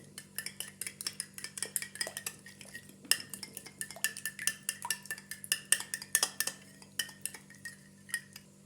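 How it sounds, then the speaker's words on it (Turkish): A spoon stirs sugar and vegetable oil together in a bowl for bazlama dough, with rapid, close metallic clinks and scrapes in a steady rhythm over a faint low hum, no talking. "Bir tatlı kaşığı şeker ilave ediyorum ve bir yemek kaşığı kadar da sıvı yağ ilave ediyoruz. Güzelce karıştıralım."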